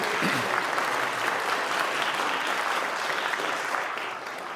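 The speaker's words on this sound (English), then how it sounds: "I wonder if we could elect them by acclamation, which you can do with a round of applause if you feel like it" A room of church members at an annual parish meeting claps steadily in a dense, even round of applause to elect vestry candidates by acclamation, loud and sustained, tapering slightly at the end.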